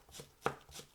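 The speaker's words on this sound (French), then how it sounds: "on émince ça grossièrement" A kitchen knife coarsely slices ingredients on a board while cooking Korean kimchi jjigae: one sharp, close cut near the middle, with fainter chopping taps around it and no talk.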